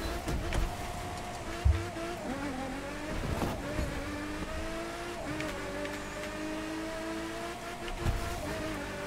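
A car engine driving in the racing video game The Crew 2, a steady loud engine drone with rising and falling pitch as the car shifts gears, with occasional thumps and no talking.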